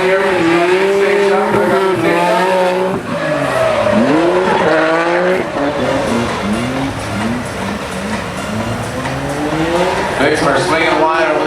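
Formula Drift car drifting near a tire wall, tires squealing with sweeping, rising and falling engine revs, loud and continuous throughout, with commentary voices over it.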